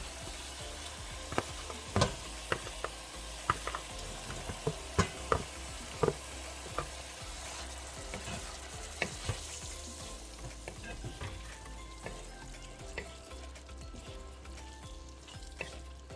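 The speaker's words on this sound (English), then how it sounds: "So I'm really going to cook the shrimp for about a minute or so." Pre-cooked shrimp fry in a thick Jamaican curry sauce with a steady, low sizzle and bubbling. Occasional stirring clicks and taps stand out near the start and fade later.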